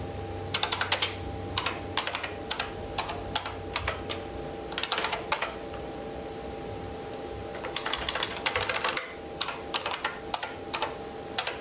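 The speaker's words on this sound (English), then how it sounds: "Oh, love that Model M keyboard." Keys clatter on an IBM Model M keyboard in crisp, loud bursts of clicky strokes, with pauses between runs of typing, over a steady electronic hum.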